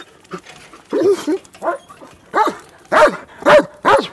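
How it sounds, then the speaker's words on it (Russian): A dog barks happily in a run of about eight bright, close barks, steadily louder toward the end, greeting someone it knows. "Таким радостным лаем пес по кличке Рыжий встречает своего спасителя Антона Чернышова"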